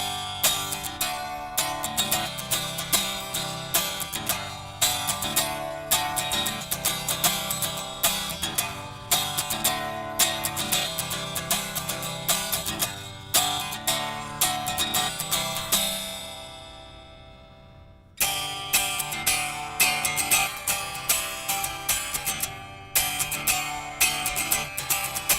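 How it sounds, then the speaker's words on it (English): An unplugged neck-through electric guitar strummed acoustically, giving thin, bright, ringing chords in a steady repeated pattern, close and clear, with one short break before the strumming resumes. "So this is the neck through guitar right here."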